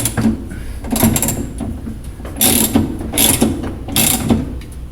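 Screw being tightened on the bottom of a Kenmore washer agitator, close ratcheting clicks in quick bursts with a brief pause between each turn, and no talking.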